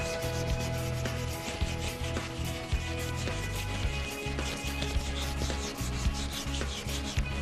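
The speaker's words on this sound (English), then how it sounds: "you just move to the next sandpaper, which is going to be the 400 grit" Sandpaper at 400 grit rubbing steadily back and forth over a soft, durable rub rail on a Boston Whaler boat, a continuous close scratchy texture with no voices.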